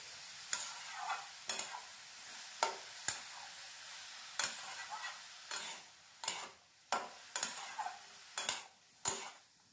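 Young bottle gourd frying for lau posto, stirred in a pan with a soft steady sizzle and about a dozen sharp, regular scraping strokes of the spatula, close up with no talk.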